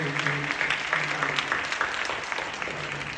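Church congregation at a Friday night prayer service in Incheon applauds, a moderately loud, steady patter of clapping that fills the whole moment alongside faint background sounds.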